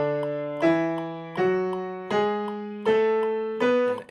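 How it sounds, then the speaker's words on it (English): Piano playing a beginner scale in half notes at a metronome tempo of 160: five sustained, evenly spaced notes stepping upward, each struck cleanly and left ringing, with no talking. "If you put your metronome at 160 right now, you should be playing half notes on your scale"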